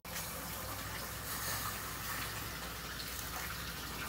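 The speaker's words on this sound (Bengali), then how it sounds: "আমি সেই কড়াই ধোয়া পানিটা দিয়ে দিচ্ছি" Rinse water from a spice-coated pan poured into a cooking pot of beef tripe curry, a steady broadband gush and splash of liquid running continuously for several seconds with no speech.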